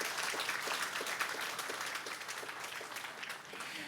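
Guests at a groundbreaking ceremony for a pharmaceutical cluster give a round of applause, a steady, moderately quiet patter of many hands clapping that tapers slightly toward the end.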